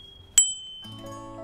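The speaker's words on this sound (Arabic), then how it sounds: "إنه يصدر صوت رنين." A bicycle bell gives one sharp, bright ding that rings out briefly, followed by soft tonal background sound.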